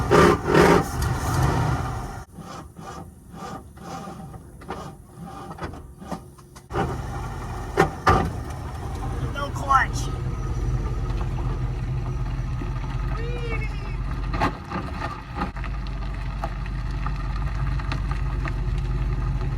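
A 1976 Jeep J10 pickup truck, sitting for 13 years, runs while driving, its engine a steady low rumble throughout, punctuated by clunks and rattles, with a person talking over it.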